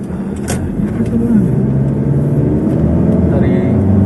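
A Honda Stream automatic, around fifteen years old, revs up from idle to about 3000 rpm on a busy road, its engine rising from a low hum to a steady louder drone heard from inside the car.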